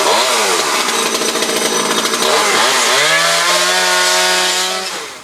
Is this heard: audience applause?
no